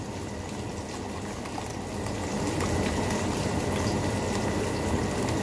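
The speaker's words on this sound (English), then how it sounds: "So you're gonna pour the hot water in there like that" Hot water is poured into a plastic Tupperware container over instant noodles, giving a steady, rushing pour that grows slightly fuller partway through, close and moderately loud.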